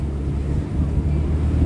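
Wind buffets the microphone during a boat ride on the water at Khanpur Dam, a steady low rumble of gusts and engine or water noise that stays loud and continuous throughout.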